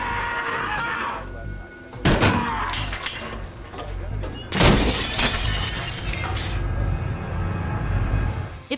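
A bathroom mirror cabinet breaks in a film scene as a man shakes it and slams it shut. Two loud, sharp crashes of shattering glass ring out several seconds apart, with strained vocal sounds and thuds in between.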